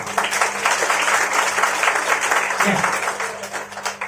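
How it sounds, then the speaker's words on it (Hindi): Loud, sustained audience applause at a Hindi-language talk, a thick, even wash of many clapping hands running for the full length with slight swells. "एक बार जोरदार ताली हो जाए।"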